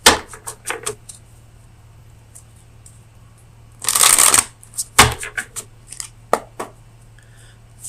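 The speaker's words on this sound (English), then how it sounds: "let me get you an oracle card from the Oracle of Visions" Oracle cards from the Oracle of Visions deck are shuffled for a tarot reading: scattered crisp flicks and snaps, then a longer riffling burst midway and more sharp taps after, close and alone over a low steady hum.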